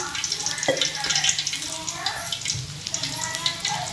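Boiled country-chicken egg masala cutlets fry in a pan with a busy, close sizzle and crackle, mixed with watery bubbling and a few soft knocks, with no talking.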